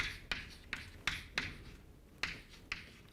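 Chalk strikes a board in a lecture hall, seven or eight sharp taps and short scrapes in an uneven rhythm, close and fairly quiet, with no talking.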